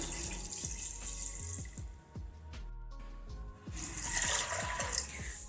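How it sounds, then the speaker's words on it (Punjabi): A steady stream of water pours and splashes into a cooking pot of white chickpeas nearby, briefly pausing midway before continuing. "ਤੇ ਹੁਣ ਆਪਾਂ ਪਾਣੀ ਪਾ ਦਵਾਂਗੇ"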